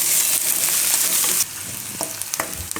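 Sliced onions fry in hot oil for a Gujarati dudhi shaak, with a bright steady sizzle that drops a little as the heat is lowered, while a spoon stirs with light scraping taps against the pan, close up.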